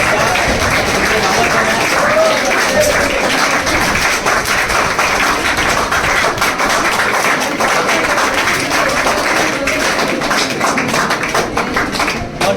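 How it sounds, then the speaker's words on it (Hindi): A crowd claps continuously at a welcome ceremony honouring newly selected Agniveer army recruits. The applause is dense, steady and fairly loud, with a faint murmur of voices beneath. "उनके ताली हो जाए।"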